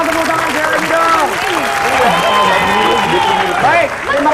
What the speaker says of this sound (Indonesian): tepuk tangan saya lagi dong.